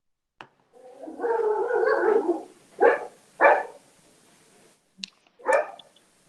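A dog gives a few sharp, close barks, scattered across a few seconds with a longer whimpering, yelping stretch near the start and pauses between calls.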